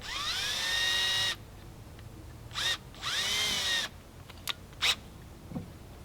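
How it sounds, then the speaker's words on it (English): A power drill whirs in two sustained bursts, pitch sagging as the bit bites into wood for a pilot hole, separated by short pauses and a few light clicks. "drill a pilot hole so that the screw doesn't break the wood"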